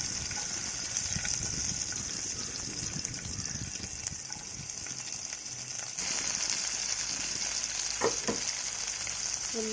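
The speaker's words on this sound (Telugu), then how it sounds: "ఉల్లిపాయ, పచ్చిమిరపకాయ ఆయిల్లోకి యాడ్ చేసుకోవాలి." Chopped onions and green chillies fry in hot oil for a brinjal and dry fish curry, a continuous close sizzle with scraping stir sounds and a brief shift partway through, no speech.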